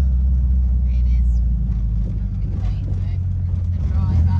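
A camper van drives along the Cañon del Pato mountain road in South America, a steady low engine and road rumble heard from inside, with people talking over it throughout.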